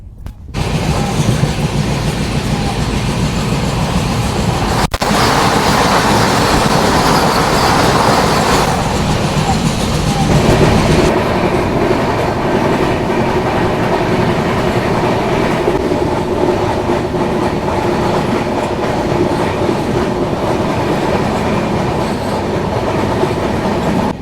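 The Lucknow–Raipur Garib Rath express passenger train runs loud and close from inside a coach at night, a constant heavy rumble with steady clickety-clack over the rails and a brief sharp jolt.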